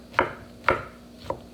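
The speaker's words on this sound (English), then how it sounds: "So I cut the mushrooms" Three crisp knife strokes chop through mushrooms on a cutting board, each a sharp woody thunk, evenly spaced and close, with no talk over them.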